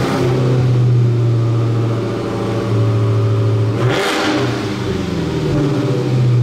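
A Dodge Charger Hellcat Redeye Jailbreak with 807 horsepower revs loudly and close, its engine holding a steady deep drone, then dipping briefly around the middle before surging back to a sustained roar.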